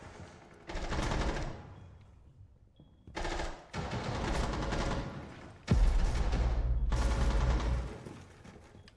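Bursts of automatic gunfire from the video game Rainbow Six Siege X, loud and close, firing in several sustained volleys separated by short pauses, with a heavier, bass-rich burst near the end.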